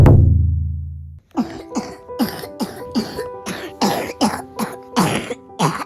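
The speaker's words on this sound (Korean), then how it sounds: "기침 소리를 듣고" A feverish young child coughing repeatedly at home, a quick series of about eight close, harsh coughs in an uneven rhythm after a moment of low rumble and a brief pause.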